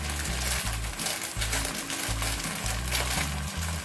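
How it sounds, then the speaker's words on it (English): A plastic bag is rattled and crinkled in a home kitchen, a steady, fairly close scrunching texture that runs the whole time over low, blocky background tones. "just heard me rattling a bag and assumes that must mean a treat for him."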